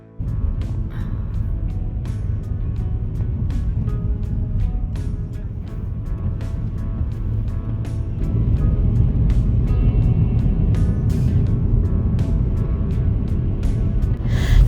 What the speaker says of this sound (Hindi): हमेशा की तरह गाड़ी रेडी है और हम भी निकल रहे हैं।